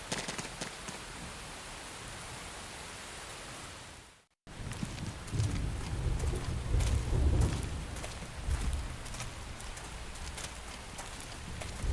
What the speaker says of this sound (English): The rain's starting to let up,